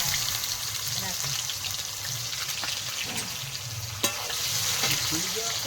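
Chopped onion and whole garam masala fry in hot oil for a goat meat curry, a loud continuous sizzle broken by scraping stirs and a sharp clink of the spoon, with voices chatting in the background.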